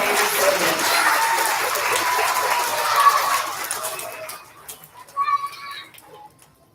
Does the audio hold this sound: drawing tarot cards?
no